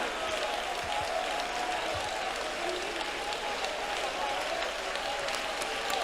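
A church congregation clapping hands together while praising aloud at a prayer service, a continuous even wash of many hands clapping at moderate distance, steady throughout.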